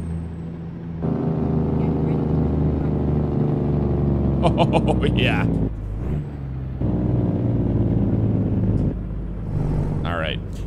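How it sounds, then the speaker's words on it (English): Truck engine with a straight pipe exhaust in a trucking video game droning loud and continuous, with a dip in the middle before it picks up again. Someone speaks briefly over it. "We got that straight pipe sound too."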